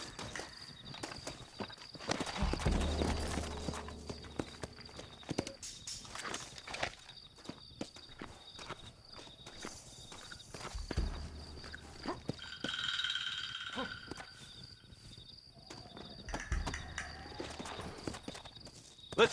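Horse hooves clip-clopping in the video game Red Dead Redemption, a quick rhythmic patter of several horses that comes and goes in bursts, mixed with game ambience and a few faint vocal sounds.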